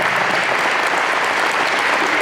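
A banquet audience gives a steady, dense round of applause for high school football players, continuous clapping filling the hall at even loudness with no voices over it.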